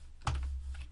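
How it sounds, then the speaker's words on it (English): Keys tapped on a computer keyboard while entering an Excel formula, a short burst of a few quick clicks close up in a quiet room. "Typing R instead of a dollar sign."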